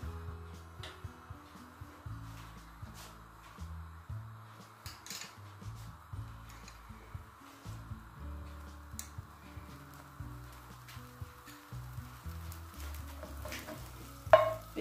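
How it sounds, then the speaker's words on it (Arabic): Seeds toasting in a pan with a spoonful of butter and oil, a soft steady sizzle with repeated scraping stirs and light clinks, close and fairly quiet, with no talking. "وبنفس الطريقه دابا غادي ندوزو باش غادي نشحروا هاد البزروق"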